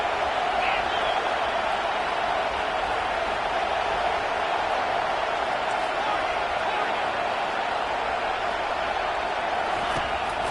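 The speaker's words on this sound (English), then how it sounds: "Decibels rising as the crowd gets behind this defense on third down." A stadium crowd roars steadily during a football game as the defense lines up on third down, a continuous, loud wash of cheering noise that never lets up.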